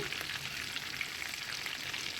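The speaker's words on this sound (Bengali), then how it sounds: "এটা অল্প আঁচেতে একদম ভাজতে হবে একদম গ্যাসের ফ্লেমটা একদম অল্প ধিমে ধিমে রাখতে হবে" Chicken lollipops fry in oil over a low gas flame, giving a steady, soft sizzle and crackle that stays even and close throughout, with no talk over it.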